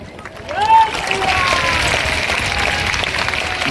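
A large crowd at a religious gathering applauds loudly and continuously, a broad, steady wash of clapping that swells early and holds, with a voice rising briefly over it.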